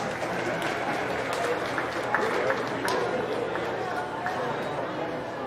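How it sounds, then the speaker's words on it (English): Applause from the audience at a county fair sheep show rings out as a steady, even wash of clapping that holds close and fairly loud, with crowd chatter mixed in underneath. "Let's give her a round of applause."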